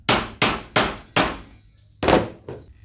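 An aftermarket radiator for a 2004–2006 Lexus RX330 is hammered into place: six sharp metallic blows, four quick evenly spaced strikes, a pause, then two more, loud and close.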